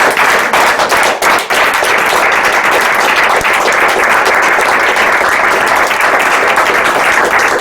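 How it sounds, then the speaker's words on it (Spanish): A large audience at a presentation of Os Ninguéns breaks into loud, dense, sustained applause that fills the whole stretch without pause. "pues nos aplaudimos por haber estado aquí"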